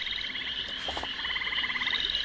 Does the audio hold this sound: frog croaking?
yes